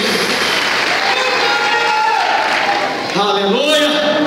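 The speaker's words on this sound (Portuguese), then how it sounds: "Vamos aplaudir-os, vamos aplaudir-os." Church congregation applauding steadily throughout, a dense broadband clatter of many hands, with voices and singing layered over it toward the end.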